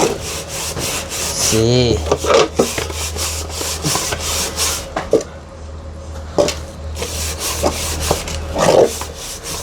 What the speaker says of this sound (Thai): เราต้องเอาสกอตเล็กขัดเลย